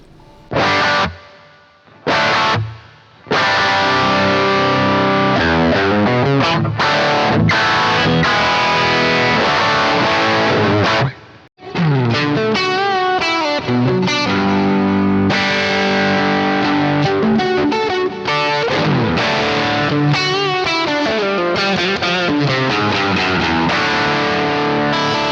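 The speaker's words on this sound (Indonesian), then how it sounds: "Oke, gue tambahin reverb di sini," Electric guitar played through a Boss GX-100 multi-effects unit with plate reverb, sounding as continuous distorted, chorus-tinged chords and lines, loud and close, with a couple of brief pauses near the start and one near the middle, no talk.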